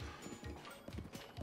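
Horse hooves clip-clop in a steady galloping rhythm in The Legend of Zelda: Breath of the Wild, close and fairly loud, with repeated low thuds and no talking.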